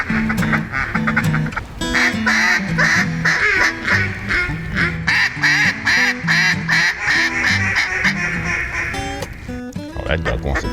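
Loud, repeated duck quacks in quick rhythmic bursts, close by during a duck hunt in Stuttgart, with people talking and calling out over them.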